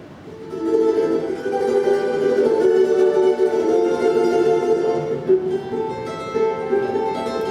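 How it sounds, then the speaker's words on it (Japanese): A charango, a bright, multi-stringed instrument, strummed steadily and continuously, full chords ringing close and clear with no voices. "これチャランゴと言います。"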